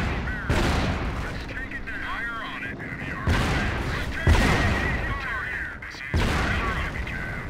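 Gunfire and explosions in Company of Heroes, a World War II strategy game set in the Normandy invasion, with dense bursts of shots and booms in several loud waves under in-game radio voices.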